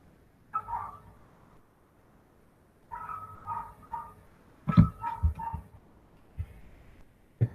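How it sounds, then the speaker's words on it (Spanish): A neighbor's dog barks at a distance in several muffled bursts of two or three barks, with quiet gaps between them and no talk over them. "Estoy escuchando el perro de mi vecino nomás acá"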